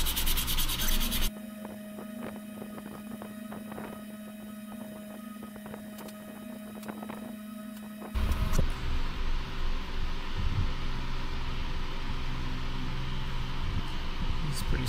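A wooden fishing lure being sanded with 240-grit paper: a steady hissing rub near the microphone over a constant motorized hum, shifting to a louder, rougher scrubbing partway through, with no talking.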